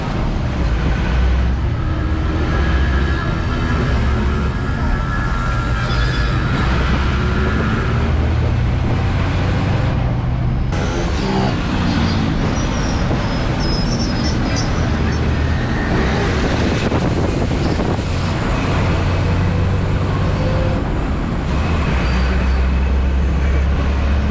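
A loud, continuous rumble of a city bus engine on route 71E from Broadway to Avadi in Chennai, with road and traffic noise throughout and faint voices mixed in.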